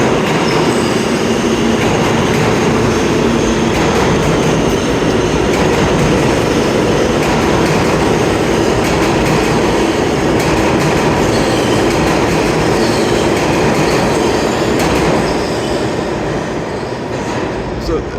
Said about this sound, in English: R160 E-train heading down to World Trade Center, and this E-train is heading to Jamaica, Queens